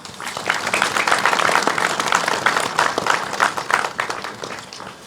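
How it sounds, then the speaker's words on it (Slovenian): A crowd of local residents applauds at a volunteer fire brigade's handover ceremony for a new fire engine, dense lively clapping that swells and then gradually thins out. "Še en aplavz"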